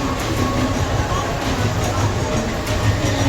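A busy, crowded railway platform at Thane station, Mumbai, with a steady roar of a train and crowd, overlapping voices and a constant din throughout.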